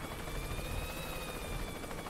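Helicopter in the video game Worms W.M.D., a steady rotor drone with a thin whine running loud and continuous throughout, no talk.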